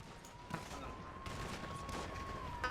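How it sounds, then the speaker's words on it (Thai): Gunshots ring out in a video game with police, a few sharp cracks over a steady, noisy game background, fairly distant and without talk. "ใครยิงวะ"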